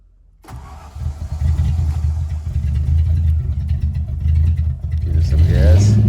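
A car engine fitted with straight pipes cranks and fires up, then settles into a loud, deep, steady idle that swells toward the end, with people talking briefly near the start.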